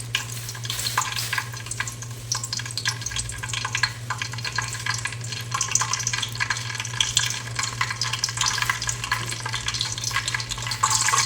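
Mustard seeds sizzle and crackle in about 15 ml of hot oil while cooking a bottle gourd and potato gravy, a steady dense frying hiss with scattered pops that continues unbroken, close and even, with no talking.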